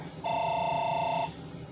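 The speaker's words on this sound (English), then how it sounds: "Sorry for the phone ringing." A telephone rings once, a clean electronic tone holding for about a second, loud and close in a quiet room, with no talk over it.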